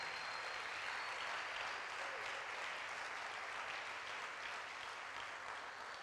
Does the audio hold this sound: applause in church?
yes